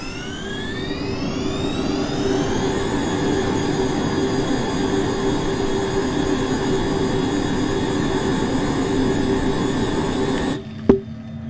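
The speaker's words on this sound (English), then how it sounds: "the sound of a jet taking off" A loud, steady Honda Jet engine roar in a flight simulator game, with rising whine tones that level off into a sustained drone, then cuts out abruptly near the end.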